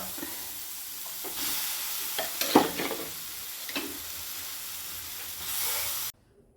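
Stirring a banana stem, dal and tapioca curry in a hot pan, with continuous scraping and soft sizzling plus a few louder clacks of the spoon against the pan, close up, before it cuts off abruptly.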